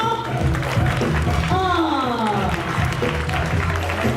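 Crowd applause at a live music battle event runs steadily throughout, mixed with a loud voice and booming music beneath it.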